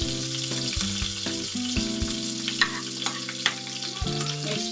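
Chana dal and urad dal frying in hot oil make a continuous bright sizzle and crackle, heard beneath loud background music.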